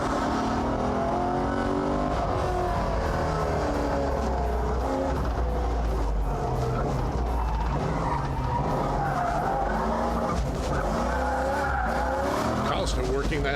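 A drift car whips through a donut and a fast slalom at a drifting school, its tires squealing and skidding with engine revving throughout, while a commentator talks over the run.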